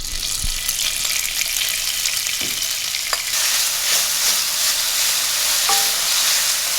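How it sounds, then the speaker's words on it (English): About two tablespoons of vegetable oil sizzling in a hot frying pan, a close, steady crackling hiss with a few small pops and stirring scrapes, lasting throughout without any voices. "I'm adding about 2 tablespoons of vegetable oil to my hot frying pan."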